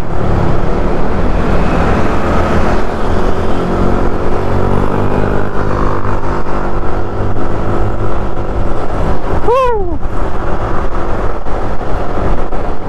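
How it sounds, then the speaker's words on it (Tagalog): Steady road traffic on EDSA heard from a moving vehicle, a constant loud engine and tire rumble that never lets up, with a brief rising horn or siren-like sweep near the end. "Build up na ng traffic yan."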